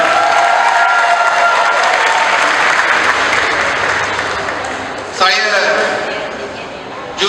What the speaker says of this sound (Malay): berikan tepukan kalahkan pada beliau